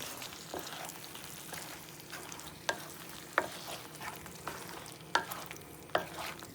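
Spicy eggplant masala cooks over low gas, a soft sizzle running beneath spoon strokes that scrape and tap the pan every half second to a second, close and fairly quiet.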